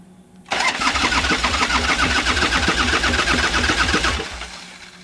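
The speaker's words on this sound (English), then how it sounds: "I'm just going to crank it up till I get oil pressure" A V-2 blower engine that has sat unstarted for a long time after an accident cranks loudly and rhythmically for about four seconds, then the churning fades away.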